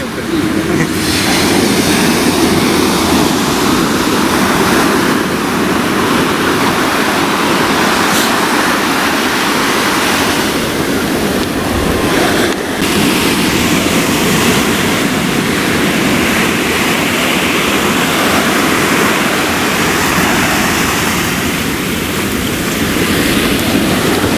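Ocean waves wash onto a black sand beach in Costa Rica, a loud, continuous roar of surf close by with swelling rushes of water.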